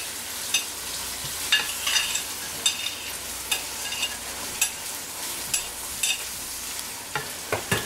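Onions and meat sauté together in a pan, a soft continuous sizzle punctuated by regular sharp clicks and scrapes of a utensil stirring against the pan, with no one speaking.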